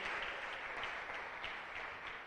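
A church congregation applauding at a sermon, a dense, even burst of clapping from many hands that holds steady for a couple of seconds and then starts to fade slightly.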